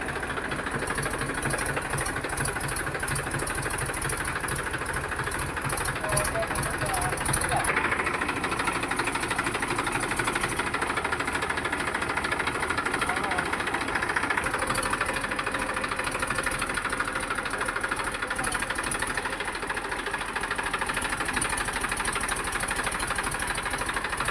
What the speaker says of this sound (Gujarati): તો ટ્રેક્ટર વળતું કરવાનું છે.